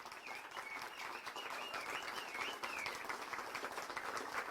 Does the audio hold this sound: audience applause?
yes